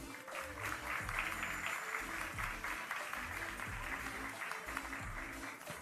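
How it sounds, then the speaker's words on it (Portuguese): Applause at a national beauty pageant welcoming a judge, steady clapping throughout under loud background music with a thumping beat. "Recebemos com muito amor, muitas palmas, a Fátima Barreto."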